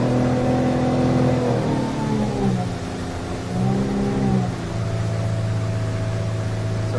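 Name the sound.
Hewescraft 190 Searunner boat with F200 outboard engine accelerating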